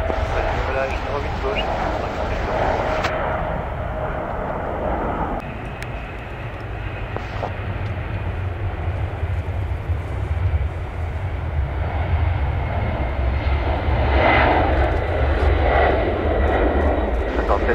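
Airliner takes off from runway 08 left at Paris Charles de Gaulle, a loud sustained jet engine roar that swells and holds steady throughout, with radio air traffic control talk over it.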